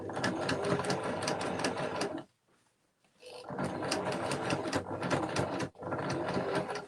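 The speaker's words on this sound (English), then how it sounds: "Line it up, put my needle in, and then sew." A sewing machine stitches the handles onto a screen-printed gift bag in two close, rapid bursts of mechanical chatter, broken by a brief pause.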